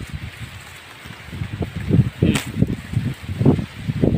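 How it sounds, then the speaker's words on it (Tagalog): Strong wind gusting at a hilltop overlook, buffeting the microphone in uneven low rumbling surges that build and fade, loud and close throughout. "Hangin kayo grabe"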